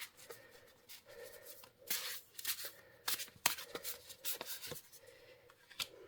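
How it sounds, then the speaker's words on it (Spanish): A deck of oracle cards is shuffled by hand, with repeated soft papery flicks and swishes coming in uneven bursts, close up and quiet. "Vamos a barajar las cartas."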